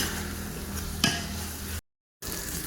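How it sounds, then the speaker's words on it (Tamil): Ginger garlic paste being stirred in a pan for mutton biryani, a continuous close sizzle with a spoon scraping across the pan partway through, then briefly cutting to silence. "இஞ்சி பூண்டு பேஸ்ட் பேஸ்ட்டை போட்டதுக்கப்புறம் அதோட பச்சை வாசம் போகிற போகிறது வரை நல்லா கிளறணும்"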